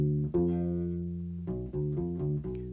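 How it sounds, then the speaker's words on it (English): A U-bass plays a diminished arpeggio drawn from the Locrian scale: one long, ringing low note followed by a quicker run of plucked notes, warm and rubbery, close and unaccompanied. "It's actually a diminished arpeggio"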